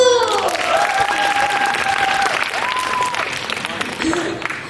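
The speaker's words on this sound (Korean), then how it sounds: "박수!" Audience applause at a club presentation in a hall, steady and loud for several seconds while a voice calls out over it and music plays softly underneath.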